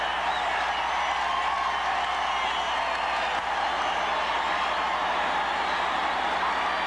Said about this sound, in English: And the crowd goes bananas.